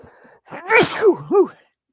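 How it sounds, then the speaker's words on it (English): A single sharp sneeze, with a quick intake of breath followed by the explosive burst and a short trailing vocal sound. "As I sneeze."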